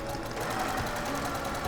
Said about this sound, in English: I'm going to sew a 1/4 inch away from the edge all the way down the side